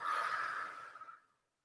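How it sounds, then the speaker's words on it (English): A single long breathy exhale during a Pilates glute stretch, close and soft, tapering off into silence after about a second. "and exhale."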